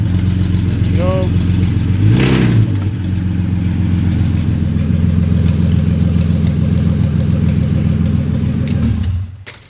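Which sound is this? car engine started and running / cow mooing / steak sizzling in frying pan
car engine started and running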